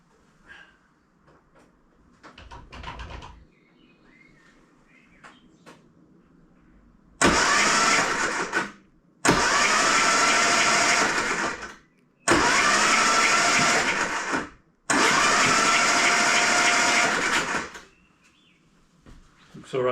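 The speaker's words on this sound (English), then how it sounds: "I'm just going to roll it over on the starter motor and yeah, just see if it's all right." A car engine with its spark plugs removed, cranked on the starter motor in four separate bursts of fast, even whirring. Each burst lasts a couple of seconds and ends abruptly, with quiet gaps and some faint handling noises before them.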